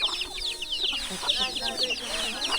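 Several chickens cluck and chatter close by in a hill village, a busy overlapping run of short calls with faint voices underneath.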